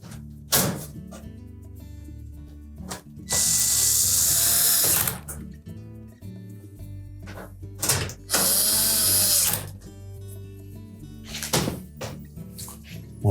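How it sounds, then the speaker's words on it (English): A power screwdriver drives screws to fasten the rear panel of a GE electric range, several loud whirring bursts separated by clicks, metal handling and short pauses. "press the main rear panel into position and then secure it with the screws"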